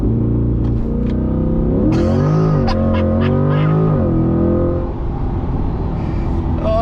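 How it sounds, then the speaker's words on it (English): A Porsche launches hard under launch control, its engine note climbing through rising gear pulls and a brief shift, loud and close from inside the cabin. "That launches hard and virtually no spin at all."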